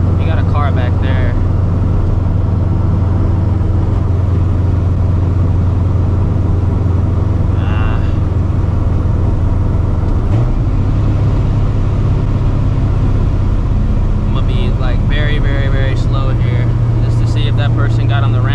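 A supercharged 2V Ford Mustang making about 600 horsepower drones loudly from inside the cabin under hard pulls, a heavy, steady engine rumble that shifts pitch partway through, with occasional brief sounds over it.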